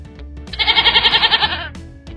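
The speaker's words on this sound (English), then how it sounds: "It's a goat." A single goat bleat rings out loud and close, a wavering quavering cry lasting about a second in an otherwise quiet setting.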